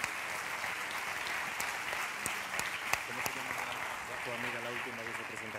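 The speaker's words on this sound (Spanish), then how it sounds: "Pues un aplauso para Genac." An awards gala audience for an entrepreneurship prize bursts into sustained, fairly distant clapping that holds steady across the hall, with voices talking over it.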